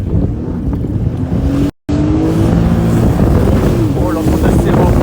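A jet ski engine drones loud and continuous on the water off Zanzibar, heavily buffeted by wind on the microphone, with a brief dropout partway through.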